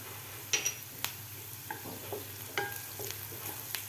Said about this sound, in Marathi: हळदसुद्धा आपल्याला व्यवस्थित मिक्स करून घ्यायची आहे कांद्यामध्ये